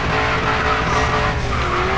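Car tyres squeal loud and sustained while sliding through a turn in the racing game Grid 2, over a roaring engine, close and continuous.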